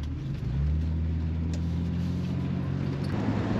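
A BMW E23 7 Series car driving on a road in Northern California, its engine giving a steady low rumble that swells slightly and holds constant throughout, heard from inside the cabin with no talking.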